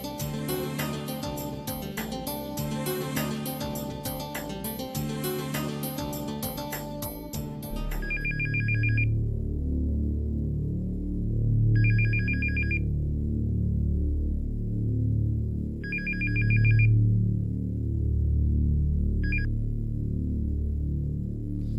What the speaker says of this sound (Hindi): देखना आबरू किसका फोन।